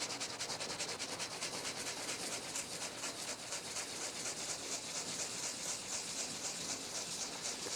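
A Scotch-Brite pad scrubs a timing chain cover in a steady, close, continuous rasping rub with no pauses and no talk.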